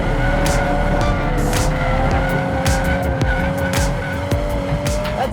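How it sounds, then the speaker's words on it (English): A stock 2022 Volkswagen Golf R holds a long four-wheel drift on The Streets of Willow track, its tires squealing steadily under a loud, continuous engine drone with a rising pitch toward the end. "That's a very long four-wheel drift from a bone stock Golf R"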